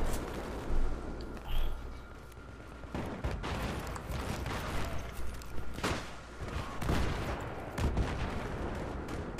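A SPAS-12 shotgun firing in Battlefield 3 during close-quarters play, with repeated heavy blasts at uneven intervals amid a busy backdrop of other gunfire and battle noise.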